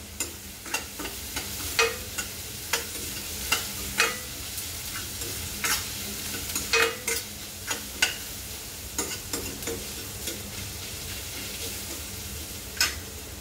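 Metal ladle clinks repeatedly against the rim of a pot while paneer bhurji cooks, sharp irregular taps over a steady low sizzle, close and fairly loud, with no voices.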